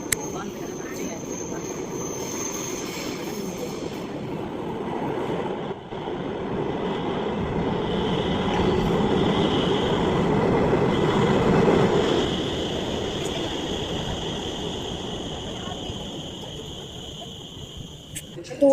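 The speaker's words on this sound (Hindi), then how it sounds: "फिर एक बार आप ट्रेन की आवाज़ सुनिएगा।" An underground metro train pulls into a station with a loud, steady rumble that swells midway and eases off, a thin high whine running above it throughout.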